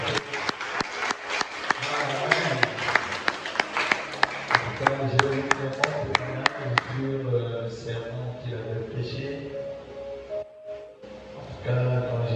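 A church congregation bursts into rhythmic applause acclaiming God, loud claps for several seconds before fading into voices and a lingering hum, with speech overlapping.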